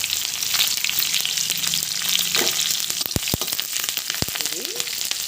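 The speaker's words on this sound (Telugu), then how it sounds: "ఇది గోల్డెన్ కలర్ వచ్చే వరకు పప్పులు వేయించుకోండి" Chana dal, urad dal and curry leaves fry in hot oil for a South Indian tempering, a steady close sizzle with sharp crackles and pops near the end, no talking.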